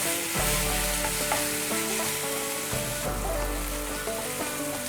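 Finely chopped onions fry in a hot pan for a tender jackfruit vegetable dish, a loud continuous sizzle with scraping stirs and clanks of the spatula against the pan, no voices.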